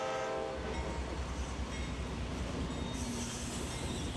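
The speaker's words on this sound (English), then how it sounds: "Small local trains carry logs to the lumber mill." A model railroad logging train running to a lumber mill, a continuous loud rumbling rail roar with wheel squeal and a rising high hiss near the end, no voices.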